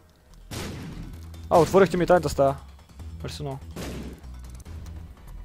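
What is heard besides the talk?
bombs exploding in the video game The Binding of Isaac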